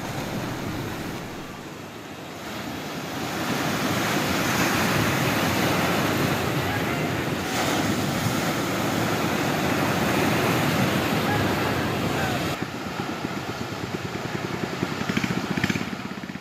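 Heavy surf from high ocean waves over two meters mixed with strong wind during bad weather, a loud, continuous roar that holds steady and then changes abruptly partway through.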